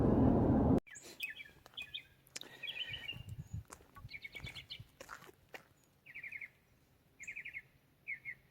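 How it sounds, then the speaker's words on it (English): Birds chirp in short repeated bursts throughout, bright trills near and far, over a quiet outdoor background at Crooked River State Park with faint shuffling and a loud thump at the start. "Hear the birds?"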